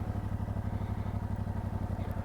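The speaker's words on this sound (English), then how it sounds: "let's start up the engine" Yamaha Tracer 7 (2021) motorcycle engine running steadily at a low idle, a close, even pulsing thrum with a rapid regular beat, no speech over it.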